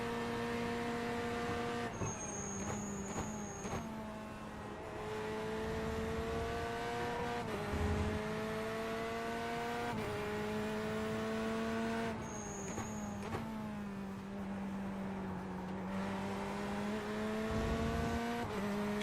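A GTE race car in the iRacing simulator drones with a loud, continuous engine note that climbs through the gears, drops sharply at each shift, and climbs again.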